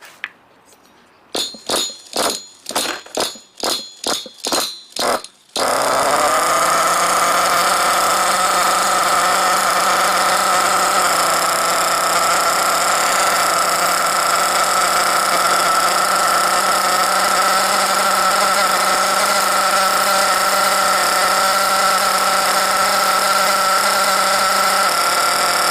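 HPI Savage X 4.6 nitro RC truck engine: several short pull-start bursts, then it fires and settles into a loud, steady high-pitched idle that runs on continuously.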